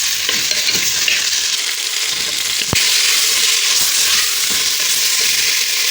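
Salt and spices being stirred into fish head soup in a pot bring a continuous bubbling sizzle with scraping stirs and one sharp knock of a spoon against the pot, close and loud.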